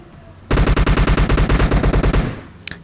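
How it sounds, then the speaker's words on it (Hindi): Rapid automatic gunfire in a battle-royale shooter video game, a loud steady burst of evenly spaced shots lasting about two seconds, then stopping abruptly, with a faint clatter at the end. "बाहर से बहुत सारी फायरिंग तो आ रही थी"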